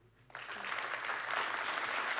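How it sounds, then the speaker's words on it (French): Audience applause swells up after a brief quiet start at a talk with a chemist on recycling, becoming a steady, fairly distant wash of clapping that grows slightly louder toward the end. "là encore sous vos applaudissements"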